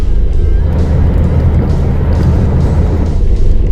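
A car drives along a road during a teen's driving practice, its engine and road noise forming a loud, steady rumble throughout with no talk.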